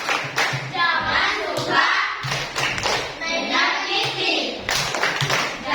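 Children in a classroom clap together in a steady rhythmic pattern of sharp, close hand claps, with a teacher's voice and singing carrying over the claps throughout.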